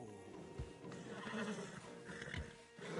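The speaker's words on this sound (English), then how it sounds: "Marston, you're gonna tether him up to Javier's horse." A horse in the video game Red Dead Redemption 2 whinnies, a drawn-out neigh with a couple of snorts and light hoof clops around it, fairly close but moderately quiet.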